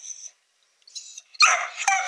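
A restless pet dog whines in thin, high bursts, then lets out a louder, sharper yelping outburst nearby, all without any talk.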